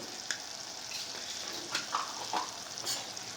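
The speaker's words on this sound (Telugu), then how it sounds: "ఈ టైంలో కొంచెం అల్లం వెల్లుల్లి పేస్ట్ వేసుకుందాం" Ginger garlic paste frying with softened tomatoes and onions in a pan, making a quiet, steady sizzle with a few soft stirring scrapes and light taps, with no talk.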